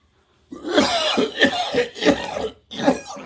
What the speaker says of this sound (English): When I cough, I get dizzy.